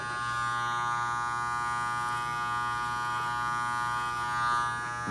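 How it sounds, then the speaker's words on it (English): An Andis T-Outliner electric hair trimmer buzzing steadily up close, a constant tonal motor whine with no pauses and no voices. "that's how you adjust the trimmer"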